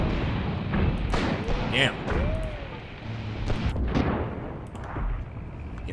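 Grenade explosions in a WW2 North Africa battle game sound as several sharp booms and thuds scattered across the scene, mixed with gunfire, while someone speaks briefly over the combat.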